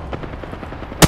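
Automatic gunfire from Apex Legends: a soft rattle of distant shots, then a sudden loud, close burst near the end, with no talk.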